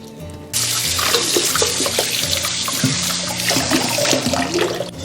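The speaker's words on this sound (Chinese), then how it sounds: "接着我们再给它清洗一下" Tap water runs strongly over a fat eel being rinsed clean in a kitchen sink, a steady loud gushing and splashing that starts abruptly and continues without a break, close up with no talking.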